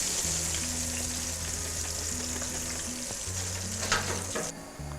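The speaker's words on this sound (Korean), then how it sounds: "이와 같이 버섯류는 위에 떴을 때 갈색이 되고요." Mushrooms deep-frying in a pot of oil, a steady dense sizzle and bubbling that holds throughout, then a brief clatter near the end before the frying drops off abruptly.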